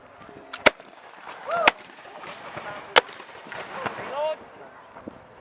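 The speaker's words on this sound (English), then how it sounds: "That's what I mean, that sounds like fireworks, eh?" Cannon fire at an 1812 bicentenary reenactment: several sharp, distant booms pop out irregularly like fireworks over a noisy background, with faint whistling and crackling between them.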